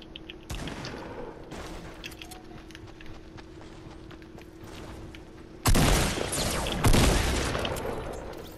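A loud burst of gunfire in a shooting video game, then a second rapid volley a moment later, both close and harsh over steady background hum.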